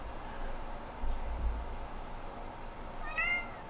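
A cat meows once near the end, a short rising harmonic call heard close by over a low background hum, with no talking.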